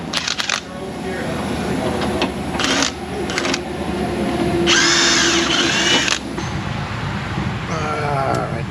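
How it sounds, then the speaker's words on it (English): A power tool whirs in several bursts, spinning a nut off with a 21mm socket in an auto repair shop, the longest burst near the middle, over a steady mechanical hum close by. "I'll put my 21mm socket and spin that off with power tools"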